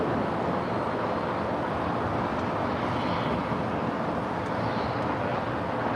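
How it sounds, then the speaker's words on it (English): An airliner takes off from runway 25 right at LAX, a steady, loud broadband jet roar that holds for the whole stretch with no voices. "cleared for takeoff"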